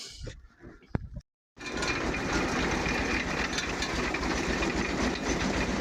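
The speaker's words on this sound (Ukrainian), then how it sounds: "Січкарня від трактора, зараз Юра під'їде, підключиться і буде крутити" A tractor-driven chaff cutter chopping nettles and corn for livestock runs with a steady, loud mechanical rumble and rattle after a brief pause, continuous and close throughout.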